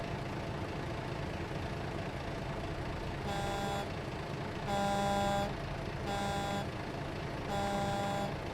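A truck horn honks in American Truck Simulator near Burlington, Colorado: four separate blasts with stacked tones at uneven intervals, sounding over a continuous low engine rumble.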